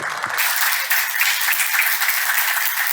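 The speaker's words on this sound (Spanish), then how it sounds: "voy a pedir un aplauso para Mateo San Martín, que murió, pero apláudanlo" An audience at a Spanish-language tertulia applauds in memory of the late promoter Mateo San Martín: dense, steady clapping from many hands, fairly close and sustained for the full stretch, with no voices over it.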